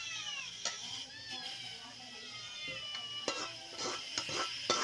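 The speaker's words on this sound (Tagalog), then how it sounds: "kasi naghihingi na yung ating mga pusa" Cats begging for food meow repeatedly, with several rising, whining calls close by over a low kitchen background, some overlapping one another.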